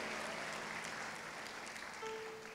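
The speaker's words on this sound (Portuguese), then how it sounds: "eu quero aproveitar e dar um aplauso para Jesus por você" Congregation in a church service applauding, a steady wash of many hands clapping at moderate distance, filling the space without a pause.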